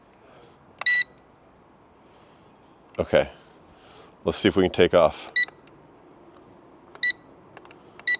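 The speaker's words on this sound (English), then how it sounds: "It's beeping at me." Short, sharp electronic beeps chirp a few times at irregular intervals, with a person talking in between.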